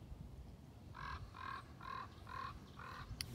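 Five evenly spaced caws ring out overhead in an outdoor grassy setting, moderately loud against a faint background hush.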